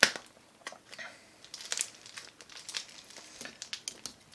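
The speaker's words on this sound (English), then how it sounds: "let's get this package opened up." A package is opened up close, with crinkling and crumpling packaging and sharp tearing crackles in an irregular run. A brighter rip comes near the start.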